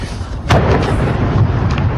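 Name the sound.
rocket fire explosions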